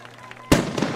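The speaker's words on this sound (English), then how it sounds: "Nice big blast of the cannon" A cannon fires at a high school football game after a field goal, one sharp loud boom that cuts through crowd noise and decays over the following moment.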